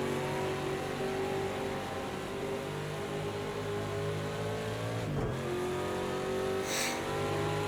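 A Ford Mustang GTD race car screaming around Daytona in the Rolex 24, its engine droning steadily at high revs, with one brief dip and recovery as it shifts gear; loud and continuous, no talk.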